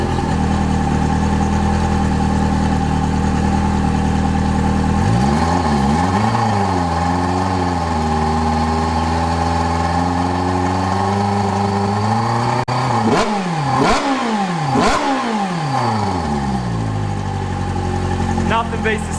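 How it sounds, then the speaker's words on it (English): An Evinrude E-TEC two-stroke outboard engine runs close and loud, idling steadily at first and then revving up and down repeatedly in rising and falling sweeps. "Nothing beats the sound of a two-stroke."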